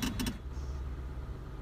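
A Mahindra Quanto engine runs in gear with a fresh, smooth clutch, giving a low, steady idling rumble close by after a brief light rattle at the start, with no voices.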